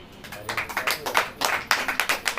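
Congregation clapping in rhythm at a church service, a run of sharp, fairly close claps in a steady beat from many hands, with a brief voice under it.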